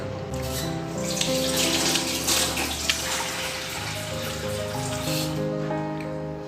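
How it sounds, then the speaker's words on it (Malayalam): Water pours into a curry pot with turmeric and mango pieces, a steady rushing trickle that runs unbroken and fairly loud for several seconds. "ഇത് കുറച്ച് വെള്ളം ഒഴിക്കട്ടെ."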